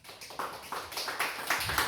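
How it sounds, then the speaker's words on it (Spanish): A church congregation claps for Christ, a steady rhythmic run of many hands clapping together at a brisk even tempo, moderately loud in a room without talk. "Dale palmas a Cristo."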